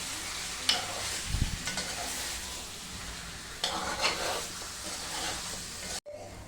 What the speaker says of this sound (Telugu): చికెన్ వేసాను కదండి, ఇప్పుడు కలుపుకుంటున్నాను.